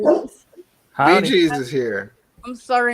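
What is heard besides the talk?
dog barking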